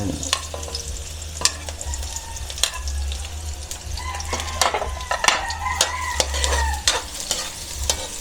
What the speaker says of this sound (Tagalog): Ating halu-haluin.